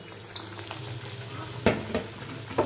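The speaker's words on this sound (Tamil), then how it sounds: "எண்ணெயில் போட்டாச்சு அது பொரியட்டும்" Chicken pieces coated in crushed Lay's potato chips fry in hot oil, giving a steady close sizzle with a few louder crackling bursts near the end.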